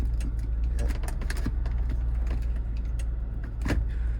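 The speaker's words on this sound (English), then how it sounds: "demonstrate shifting this puppy into 4 low." The gear shifter of a Range Rover P38 is dropped down and pushed over into four-wheel drive low, giving a few soft mechanical clicks and clunks close by over a low engine idle.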